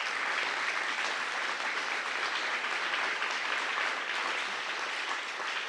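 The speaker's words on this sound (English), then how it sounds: "I want you to give them a round of applause one more time." Steady, dense applause from an audience at an athletics hall of fame ceremony, honoring athletic staff; an even wash of many clapping hands, sustained throughout without talk.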